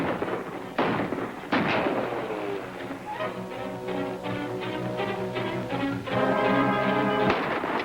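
Gunfire in an old film serial: a few sharp, loud shots crack out, separated by gaps, while dramatic orchestral music swells underneath.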